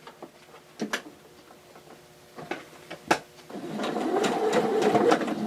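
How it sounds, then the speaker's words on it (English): A sewing machine chain-piecing fabric for face masks, with a few sharp clicks and taps at first, then a steady close, loud run of stitching in the last couple of seconds. "You start by sewing down this way."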